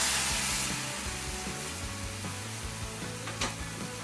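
Soup broth ladled into a pan of sautéed garlic crackles and sizzles with a broad hiss, loudest at first and then easing into a steady bubbling fry with faint clinks.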